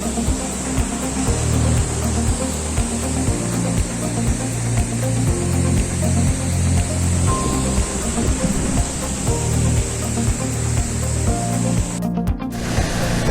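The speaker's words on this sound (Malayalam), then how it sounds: "അതിൻ്റെ നടുക്കൂടെ ഈ വെള്ളച്ചാട്ടം ഇങ്ങനെ ഒഴുകി പോയിക്കൊണ്ടിരിക്കുകയാണ്" The Thooval waterfall in the Idukki forest pours steadily, making a loud, continuous rushing roar that fills the whole stretch with no voices over it.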